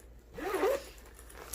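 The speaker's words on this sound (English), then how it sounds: "this compartment unzips" A zipper on a compartment of a nursing-school supply bag is pulled open in one close, rasping stroke lasting under a second, followed by faint rustling.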